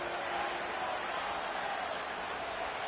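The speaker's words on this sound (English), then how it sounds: "The crowd cranking it up another notch before 3rd and long." A football stadium crowd roars in a dense, continuous wash of cheering before a third-and-long play, loud and sustained without letup.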